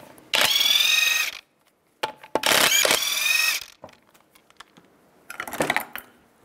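A ratchet fitted with a 19 mm socket spins off lug nuts on a 2002-2005 Chevrolet Trailblazer wheel, giving three close, loud bursts of rapid clicking with quiet gaps and small metallic clinks between them.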